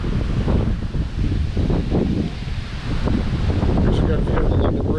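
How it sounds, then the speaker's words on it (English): Strong wind buffets the microphone outdoors beside a waterfall with a view of the London Bridge, a steady loud rumbling roar that carries through the whole stretch. "Hopefully you can hear me over this wind"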